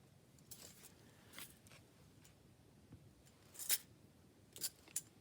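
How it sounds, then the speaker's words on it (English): A deck of cards being cut by hand in a dim room, a few soft quiet riffles and snaps spread over several seconds, ending in two sharper close clicks, with no talking. "Let's go ahead and cut the deck."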